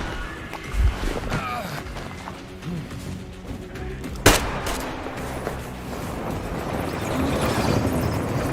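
Gunfire from incendiary rounds in Metro Exodus, a steady dense rattle of shots with one sharp loud crack near the middle, played out in a busy game mix.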